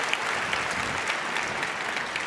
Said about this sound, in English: Let's give one big round of applause still for Emma.